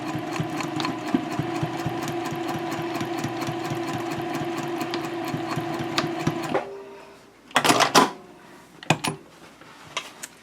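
A sewing machine stitches darts on a messenger handbag in one steady, continuous run for about six seconds, then stops and is followed by a few scattered handling knocks.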